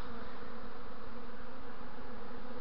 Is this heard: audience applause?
no